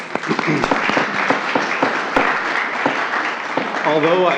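Applause and cheering fill a city council meeting, a dense steady patter of many hands clapping with voices mixed in throughout.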